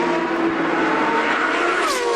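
GP2 Series race cars roar loudly into the final turn of a 2005 race in Italy, a continuous high-pitched engine howl with rising and falling revs as several cars pass close by, with no talk.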